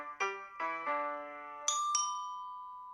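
A doorbell sound effect chimes ding-dong twice, each pair of bright tones ringing clearly and decaying into silence.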